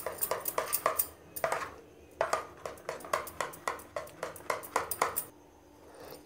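Repeated quick clinks of a utensil against a bowl as egg is beaten into gram flour batter, in steady rhythmic bursts with brief pauses, close and clear.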